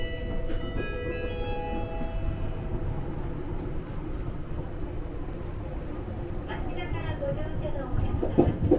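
A Tokyo Metro Home Way subway train, formed of two joined sets making ten cars, runs with a steady low rumble and rattling throughout, with faint chime tones and a voice in the carriage.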